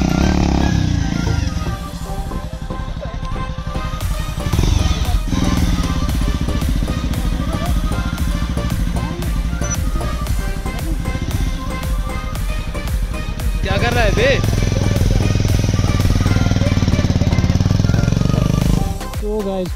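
Motorcycle engine labouring continuously as the bike climbs a dirty, muddy mountain road in Kupwara with skidding tyres, loud and close throughout, with a brief dip in level early on and a rise near the end.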